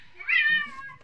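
A cat gives a single clear meow, rising and then trailing off, close by with faint background noise.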